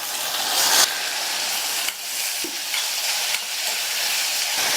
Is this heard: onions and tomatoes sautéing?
yes